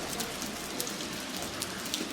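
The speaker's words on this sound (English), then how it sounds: "And it's raining." Rain falling at the Meiji Shinto shrine in Tokyo, a steady soft patter with occasional sharper drops hitting nearby surfaces, fairly quiet and unbroken.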